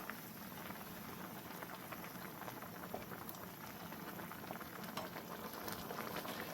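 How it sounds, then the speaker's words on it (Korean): Thick curry bubbles and simmers steadily in a pot, a constant close crackling hiss with no talking. "조금씩 저어주면서 계속 끓여줍니다"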